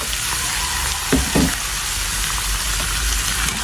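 Lechon pieces with large bones go into a hot pan for paksiw, with a couple of soft knocks early on over a loud, steady sizzle that continues throughout.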